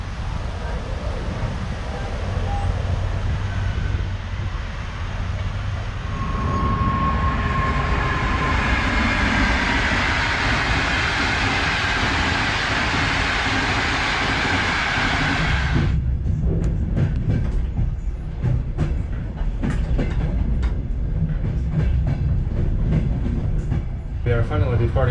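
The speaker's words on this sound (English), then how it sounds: "We are finally departing from Tashkent in the seat carriage." Passenger train pulling out of Tashkent, Uzbekistan, heard from inside the last seat carriage: a steady loud rumble of running gear and rail noise throughout, shifting to a rougher, clattering roll in the final stretch, with faint voices in the carriage.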